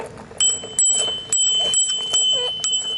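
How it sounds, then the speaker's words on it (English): A bell on a child's red toy bike rings again and again in quick, bright, metallic dings, close by and with no voices over it. "Ring your bell."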